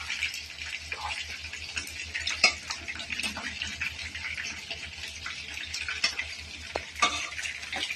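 Minced mutton keema frying in oil, a bright crackling sizzle with frequent scraping and clinking as a spoon stirs it through the pan, close up over a low steady hum.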